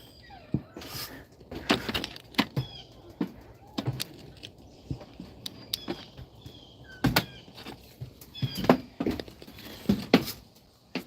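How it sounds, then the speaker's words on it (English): A door being pulled shut on a rainy South Carolina morning, heard as a few knocks and thumps of varying loudness among light rattling and handling sounds close by, with no talking. "Let me shut this door."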